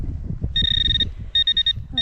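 A metal detector's high electronic tone beeps: one long sustained beep, then a quick series of short pulses, over rumbling wind noise outdoors on an old ranch.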